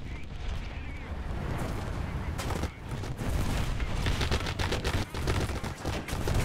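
Small arms fire in War Thunder, a tank battle game, as dense, overlapping crackling bursts with heavy low rumble, steady and loud throughout without a clear break.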